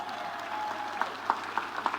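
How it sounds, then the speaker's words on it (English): Brief clapping from a congregation at an archbishop's ordination Mass, a few distinct claps standing out over a steady roomy wash of applause, short and moderately loud. "Give a clap for the 4 supporters."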